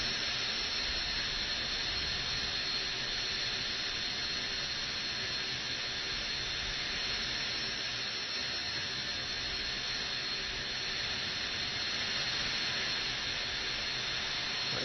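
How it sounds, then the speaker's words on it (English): Airliner auxiliary power unit running in Microsoft Flight Simulator, a loud steady broadband roar and hiss that holds unchanged and close throughout, with no speech. "My APU is on, obviously it's pretty loud."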